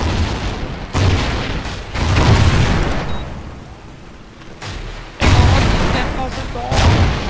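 Grenade blasts and booming gunfire from Call of Duty Ghosts multiplayer crash in repeated heavy bursts, with excited voices talking over the game.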